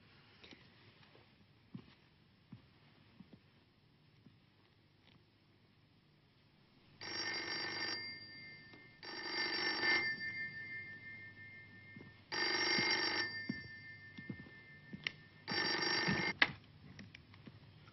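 An old-fashioned telephone bell rings in four bursts of roughly a second and a half each, spaced a couple of seconds apart, fairly loud over a quiet room.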